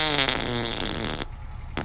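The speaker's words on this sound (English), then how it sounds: "He's farting." A character farting in a GTA 5 roleplay video game, one long loud buzzing fart that stretches out and then stops abruptly, heard alone.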